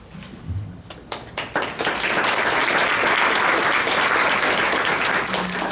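Audience at a Loudoun County General Assembly candidate forum breaks into applause, a few scattered claps building quickly into loud, sustained clapping that holds steady to the end.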